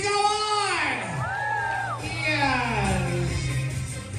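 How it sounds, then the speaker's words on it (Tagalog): Guests at a child's first birthday party cheering and whooping: a loud, close crowd of voices with rising and falling yells that runs throughout. An amplified host speaks at the same time. "Palakpakan na may kasamang sigawan!"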